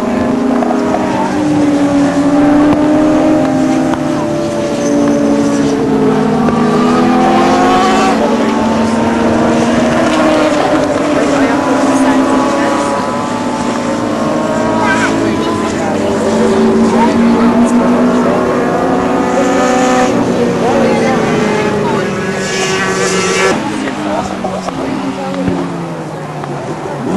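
Racing sidecars roar around a warm-up lap, several engines whining and rising and falling in pitch as they pass, with a continuous loud drone and wind buffeting on the microphone throughout.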